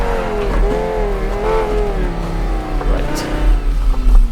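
A rear-wheel-drive Group B rally car, the Avante, revving hard on an East Coast USA stage in the BeamNG video game, its engine note climbing and dropping through gear changes, loud and close with a brief tire squeal.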